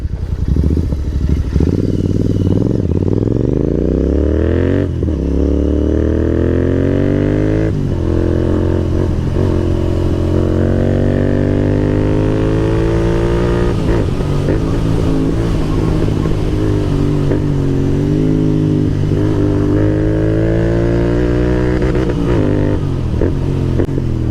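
A 650 motorcycle fitted with a Rooster exhaust rides past at close range, its loud engine rising and falling through repeated revs and gear changes without pause.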